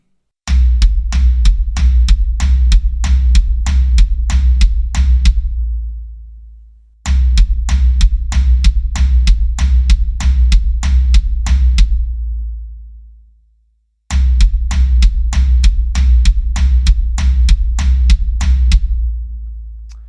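Drum kit playing floor tom eighth notes with bass drum upstrokes, a steady fast run of punchy low hits repeated in three identical bars with short gaps between, loud and close, alone.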